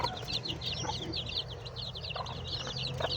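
Rhode Island chickens clucking in a small backyard flock, a steady run of close, repeated clucks and chatter with a few louder calls over a constant low farmyard hum.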